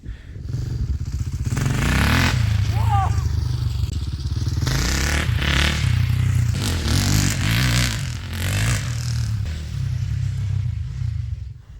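A motorcycle engine rumbles close by and revs up repeatedly, rising and falling in pitch with clattering mechanical noise, no talking.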